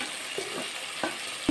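Green chillies sizzling in okra masala in a pan for bhindi jhal, a continuous close frying hiss with several sharp spatula scrapes and stirring knocks, the last one loudest.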